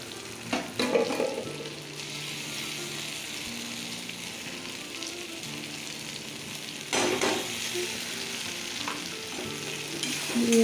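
A paste of ground ginger, cumin, dried chilli and garlic frying in a pan, giving a steady, dense sizzle with scraping stirs and a louder burst of crackle partway through, close and without speech.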